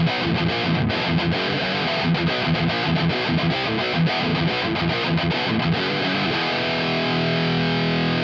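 An electric guitar played through an Electric Eye Audio Thrasher distortion pedal gives a scooped, heavily distorted 1980s-style tone. Fast chugging palm-muted riffing gives way to a ringing sustained chord, loud and continuous.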